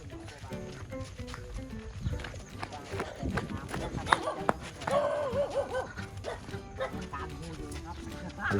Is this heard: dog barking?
yes